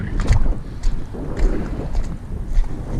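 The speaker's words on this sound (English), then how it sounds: "Sorry again for the wind." Blustery wind batters the microphone outdoors by the water during bass fishing in the wilderness, loud rumbling gusts that rise and fall continuously, with no voices heard.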